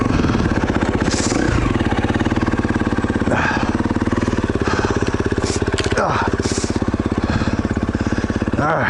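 Enduro motorcycle ridden on a freshly built extreme enduro trail, its engine buzzing loudly and steadily up close with repeated revving surges and clatter throughout, a voice speaking over it.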